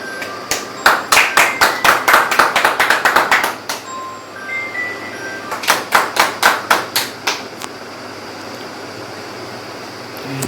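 Sharp hand claps at a hospitality industry workshop certificate ceremony, a quick run of a dozen or so loud claps, a short pause, then a second burst of about eight, over a quiet room hum.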